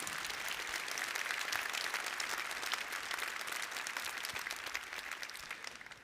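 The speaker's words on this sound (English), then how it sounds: "Join me in giving them applause." Sustained audience applause at a conference in Long Beach, California, a dense, steady wash of many hands clapping together, loud and continuous throughout before tapering slightly at the end, with no talking over it.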